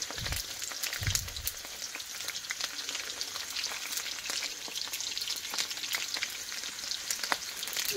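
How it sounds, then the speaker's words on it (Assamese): Onions fry in a pan, a continuous crackling sizzle with scattered pops and brief stirring bumps, close and moderately quiet, with no talk. "এতিয়া পিয়াজ ভাজি আছো"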